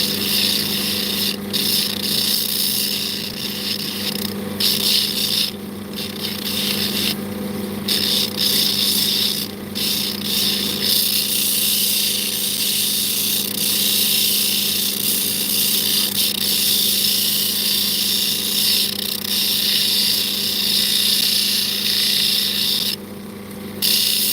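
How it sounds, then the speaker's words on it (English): An opal is gently ground on a lens-grinding machine, giving a steady, close whirring grind that runs unbroken for over twenty seconds, with a few brief rubbing scrapes and dips along the way. "I'm very gently lens grinding it now."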